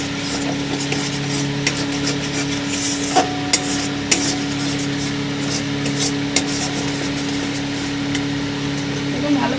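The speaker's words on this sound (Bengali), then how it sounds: "চামচ ধনের গুঁড়ো দিয়ে দিলাম দিয়ে ভালো করে একটু নাড়িয়ে নেবো" Coriander powder stirred into frying masala for a pangas fish curry with oil and chilli, with steady frying hiss, a faint hum, and occasional spoon knocks against the pan.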